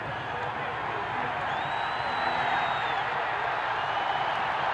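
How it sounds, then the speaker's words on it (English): Stadium crowd at a 1980 college football game, South Carolina at Georgia, roaring steadily as it rises for a kickoff, a dense sustained cheer with whistles and shouts throughout, loud and continuous, with a commentator's voice faintly under it. "The crowd comes up for the kickoff"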